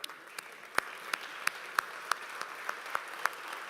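An audience at a React Summit conference claps sparsely, about ten separate, sharp hand claps at an uneven, slow pace over a quiet room tone.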